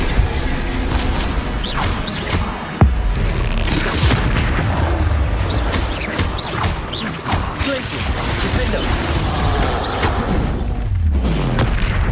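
Spell explosions and magical combat in Hogwarts Legacy, a steady clatter of booms, crashes and impacts over a dense mechanical rumble, with one sharp blast standing out early, loud and continuous.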